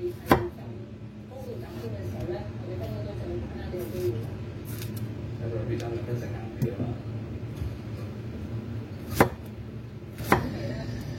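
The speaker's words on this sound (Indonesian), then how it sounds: "Setelah itu ini tomatnya kita potong seperti ini." A kitchen knife roughly chopping fresh tomatoes on a board makes a few sharp, close cuts under steady talking from a cook.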